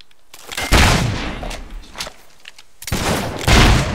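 Gunshots and explosive bursts from the fantasy action game Fable 3, loud blasts at the start and again near the end with rumbling in between, no talk.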